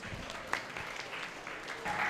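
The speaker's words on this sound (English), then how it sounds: "Let's give him a round of applause" Applause from a school audience at a storytelling competition, a quiet, steady patter of clapping that sounds somewhat distant and lasts the whole stretch.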